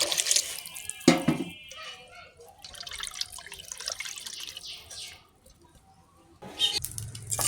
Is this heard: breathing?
no